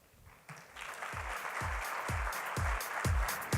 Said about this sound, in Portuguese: peço mais uma vez o aplauso, recepção calorosa de todos